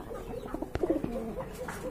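Pigeons kept for sale give a soft, low coo close by. A brief throaty burst stands out among light background rustling and faint voice-like murmurs.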